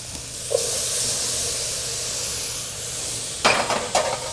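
Tomatoes go into a pan of sizzling barley pilaf, giving a steady frying hiss with a brief louder crackle and clatter partway through.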